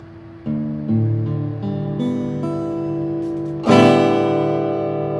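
Strings of an in-tune guitar plucked one after another, each note ringing and overlapping, ending with a full strummed chord that rings out loudly and slowly decays.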